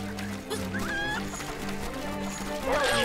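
A chicken clucks in the Link's Awakening video game, giving several short, bright squawks over a looping game music background, with a louder flurry at the end.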